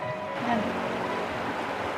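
Water flowing along the Saralpara river near Kokrajhar by the India–Bhutan border, a steady close rushing wash with no voices over it.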